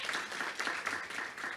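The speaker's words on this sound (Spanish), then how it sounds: "un aplauso para todos los que están de forma online en esta discusión" Audience applause during a panel discussion: a short burst of dense, even clapping from a room of people, steady and moderately loud from start to finish.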